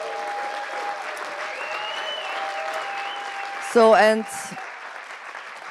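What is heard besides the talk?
audience applause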